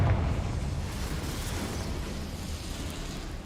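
A Confringo fire-blast spell going off at Hogwarts, a dense, sustained roaring burst that is loud at the start and slowly settles into a steady rushing rumble.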